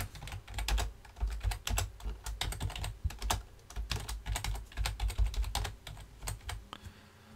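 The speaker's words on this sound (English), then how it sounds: "Then I'm going to type" Steady, fast typing on a computer keyboard as a name is entered, dense rapid key clicks running close and loud throughout with no voices.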